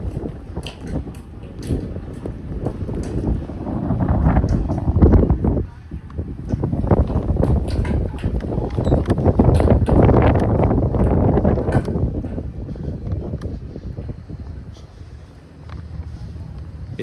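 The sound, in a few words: strong wind gusts during Montreal snowstorm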